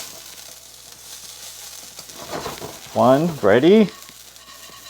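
Grated potato hash browns crisping in a pan, a steady close sizzle with scraping as they are loosened from the bottom, then a voice speaks briefly over the frying near the end.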